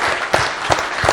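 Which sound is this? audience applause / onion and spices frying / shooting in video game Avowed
audience applause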